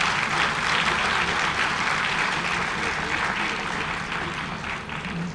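Enthusiastic applause from an audience at a teachers' college graduation ceremony in Jamaica fills the room, dense clapping holding steady before gradually tapering off.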